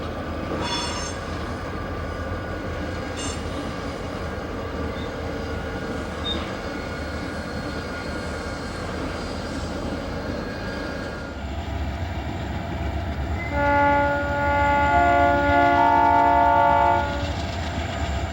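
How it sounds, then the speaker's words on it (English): Cotton Belt and SP Speed Lettered GP40-2 locomotives lead a freight train back into a rail yard, engines rumbling steadily close by with wheel noise, then a loud horn sounds several times near the end. "The Rockland Rocket comes back into the yard with cotton belt and speed lettered"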